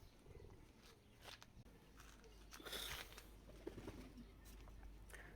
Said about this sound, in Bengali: আর এই যে আমাদের বন কবুতরগুলো,